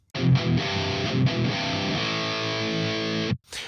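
Heavily distorted electric guitar plays the opening mini-phrase of an intro riff with barred inverted power chords, a few chugging palm-muted hits leading into a long ringing chord that cuts off abruptly, loud and close with no talking.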